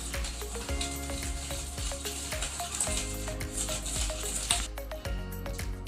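Agar-agar and sugar stirred in a pot for pudding, a steady close scraping and swishing with soft knocks against the pan and no talking.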